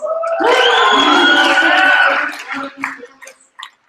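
An audience at the Braille Challenge awards ceremony cheers and shouts loudly for a cappella music, a dense swell of voices that holds for about two seconds, then breaks into scattered whoops and fades.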